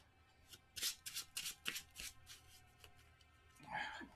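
Several quick riffling bursts of cards being shuffled, crisp and close, followed by a brief shuffling rustle near the end.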